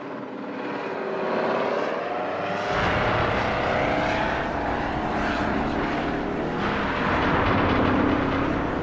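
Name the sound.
Osprey hybrid tiltrotor military aircraft flying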